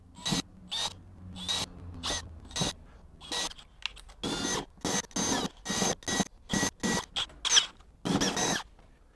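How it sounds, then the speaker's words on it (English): A drill bores button holes in the case of a Milwaukee PACKOUT trailer tester, giving a rapid series of short, loud whirring bursts separated by brief pauses. "So let's get these drilled out."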